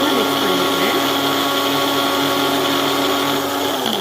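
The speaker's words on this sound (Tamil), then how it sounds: "இது மூணுமே நான் பிளெண்டரில் போட்டு நல்லா மிக்ஸ் பண்ணிக்கிறேன்." A blender whirring steadily as it mixes curd and other hair mask ingredients, a loud continuous motor drone with a constant pitch for the whole stretch.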